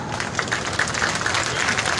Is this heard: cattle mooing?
no